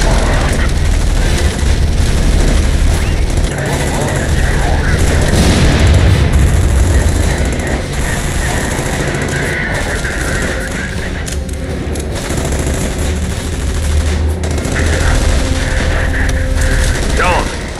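Dense, continuous gunfire and booming explosions in The Saboteur, a loud, sustained wash of shots and blasts with voices shouting over the battle throughout.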